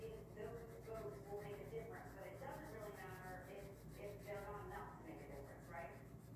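A crayon rubs lightly across paper in steady back-and-forth strokes, shading a gray area on a drawing of a garbage truck; the soft scratchy rubbing runs continuously and close, with faint talk mixed in.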